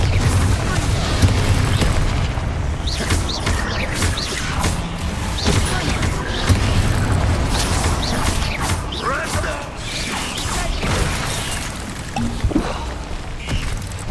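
Confringo fire blast spells from the Hogwarts Legacy video game, with loud repeated booms, crashes and crackling impacts over a continuous rumbling battle din lasting several seconds.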